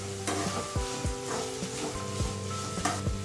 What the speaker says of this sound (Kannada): ಇವಾಗ ಹೆಚ್ಚಿರೋ ಆಲೂಗಡ್ಡೆ ಹಾಕ್ತಾ ಇದ್ದೀನಿ.